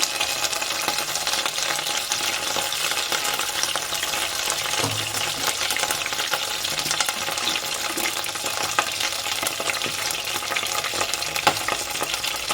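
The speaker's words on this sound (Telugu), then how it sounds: "పుదీనాని ఆయిల్లో మంచిగా ఒక రెండు నిమిషాల పాటు ఫ్రై చేసుకున్నాం" Mint leaves fry in hot oil for a mutton curry, giving a continuous close hiss and crackle of sizzling with occasional soft stirring scrapes and no voices.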